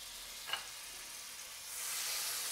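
Butter melting in a pan for a mushroom and onion sauce sizzles as a steady, soft hiss, with a brief clink early on. The sizzle rises and thickens toward the end, with no talking.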